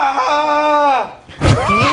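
A recording being played back carries a man's long drawn-out groan that slides downward, then breaks off and gives way after a short gap to a harsh, loud scream.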